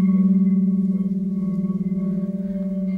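A stone instrument is struck and rings out, a clear high pitched note that sustains with overtones slowly pulsing as it fades.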